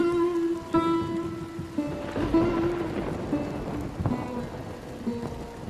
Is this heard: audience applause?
no